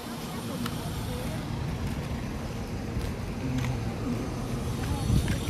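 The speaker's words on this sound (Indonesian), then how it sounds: "Awas, ada motor, mobil." Motorbikes and cars pass at a toll-road rest area in Banjaratma, a steady roar of traffic with nearby engines swelling, under faint background chatter.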